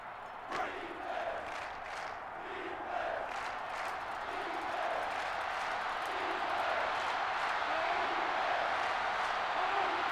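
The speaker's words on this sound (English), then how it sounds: "Crowd going crazy." A stadium crowd roars in the NCAA Football 06 video game, a broad, steady wall of cheering that swells slightly over about ten seconds, with no talk over it.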